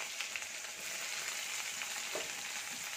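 Chopped onion frying in oil with bay leaf, dried red chilli and whole cumin, a soft, steady hissing sizzle close by with faint occasional stirs and no talk.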